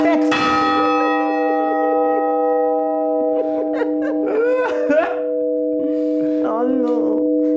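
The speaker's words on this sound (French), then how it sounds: "t'as le son de la cloche" A church bell strikes once near the start and its tone hangs on, humming steadily while voices and a bit of laughter rise over it.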